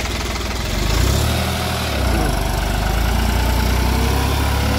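A New Holland 5620 4x4 70 hp tractor runs steadily while pulling an 11-tine tiller, a loud, continuous low engine drone with a mechanical rattle, slightly swelling once, heard close with no talk over it.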